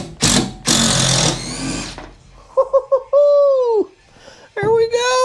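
A power driver fitted with torx bits runs in two quick bursts, then gives several short high whirring pulses and a sustained rising whine as screws are worked loose inside a van, close and loud.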